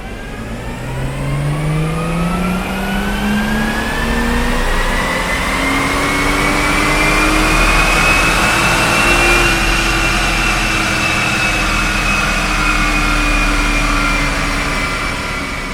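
A BMW 435i F32 runs on a dyno, its engine climbing steadily in pitch through a long, hard full-throttle pull that peaks and then eases slightly, loud and constant with no talk.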